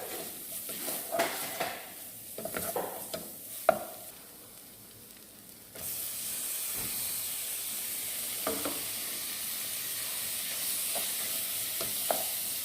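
Tomatoes fry in a pan beside a few clinks and stirs, then a loud, steady sizzle swells up and holds close and continuous.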